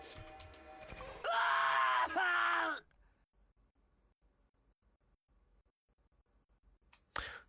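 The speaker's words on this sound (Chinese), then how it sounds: "只听一声惨叫。" A scream rings out in the horror video game Blood Money 2, a loud, strained cry lasting under two seconds after some quieter sounds, followed by near silence and a brief final burst.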